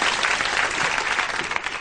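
Studio audience applauding at a recorded show with Sooty the puppet, a dense, steady wash of many hands clapping together, loud and close, with no voices over it.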